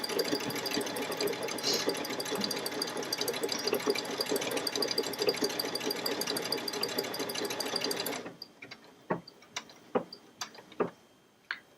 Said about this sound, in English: And then I'm going to press the start button, and it'll continue to sew until it gets to this corner